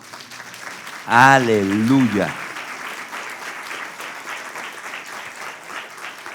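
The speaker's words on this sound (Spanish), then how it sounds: "¿Cuánto le dan un aplauso al Señor?" Church congregation applauding during a sermon, with steady, fairly close clapping throughout as a voice rings out loudly in a drawn-out shout near the start.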